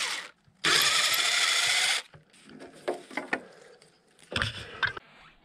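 A power drill backs temporary screws out of a backyard 8 x 10 pergola frame. It runs in two loud, close whirring bursts: a long one of more than a second, then a shorter one after a pause filled with faint handling noises.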